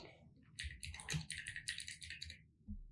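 Rapid keystrokes on a computer keyboard, typed in a quick, uneven burst of close clicks for about three seconds, with no talking.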